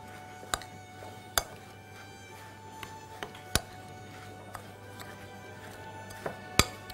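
Butter and crushed biscuits being stirred together in a bowl for a peanut butter bar base, sparse sharp clinks of a utensil against the dish over a quiet background, no talking.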